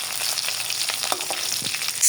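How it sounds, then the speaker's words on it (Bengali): Dried chillies fry in mustard oil in a wok, a close, continuous crackling sizzle with a few brief stirring scrapes and no talk. "শুকনো মরিচটা আগে ভাজতে হবে"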